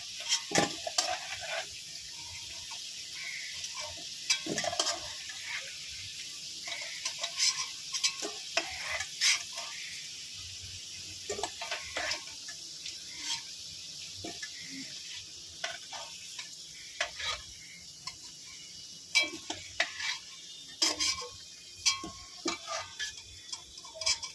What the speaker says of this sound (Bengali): পেঁয়াজগুলো আমি ভেজে নিলাম